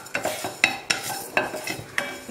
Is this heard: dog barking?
no